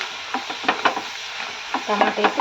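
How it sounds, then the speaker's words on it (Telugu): Tomatoes frying in oil with onion, fenugreek and turmeric for a tomato methi curry: a soft sizzle broken by repeated close scraping strokes of a stirring spoon, with no voices. "ఇప్పుడు టమాటా వేసి"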